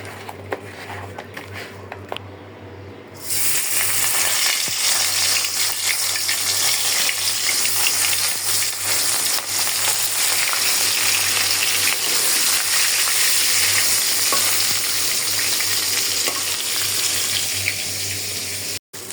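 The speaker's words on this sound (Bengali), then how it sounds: "সবার আগে আমি হলুদ মরিচ আর লবণ মাখায়া মাছটা ভেজে নেই।" After a quiet start, fish coated in turmeric, chili and salt hits a hot pan with a sudden loud sizzle. The close, steady frying crackle continues to the end, with no speech.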